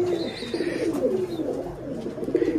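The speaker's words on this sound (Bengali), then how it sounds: "এটা খুব সুন্দর বটছুটি কবুতর, এটাও বটছুটি কবুতর" Botchuti pigeons coo continuously nearby in an enclosed room, a steady warbling murmur of overlapping calls that swells and repeats throughout.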